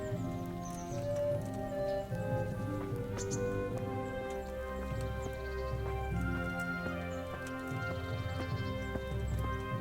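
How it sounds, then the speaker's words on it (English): Horses' hooves clip-clop steadily in Kingdom Come: Deliverance, a medieval riding scene with a continuous rhythmic patter over a layered game soundscape and music. "Get your horses mounted up and let's ride out, on the double."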